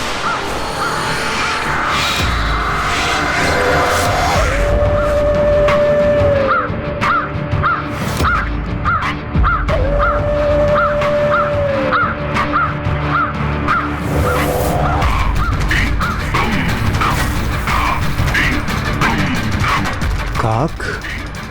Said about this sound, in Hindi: काक